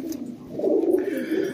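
A pigeon of the Jaildar type coos, a low throaty warble that rises and swells through the second half, close by and alone.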